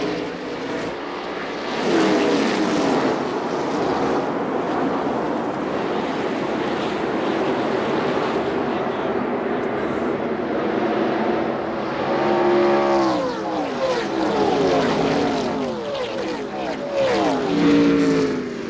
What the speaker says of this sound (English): when they fire them up and all cars roar into the first turn